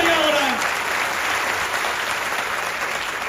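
A large audience at a Modicare business meeting in Varanasi claps continuously, a dense, even wash of applause held at steady loudness for the whole stretch.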